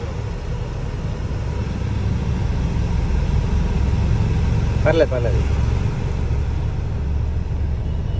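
A 12-year-old Hyundai Verna with 1.3 lakh km, engine droning low and steady while driving, with a brief spoken word over it.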